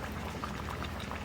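Sundarban crab curry bubbles steadily in a pan, a dense, continuous boiling hiss and gurgle heard up close with no pauses.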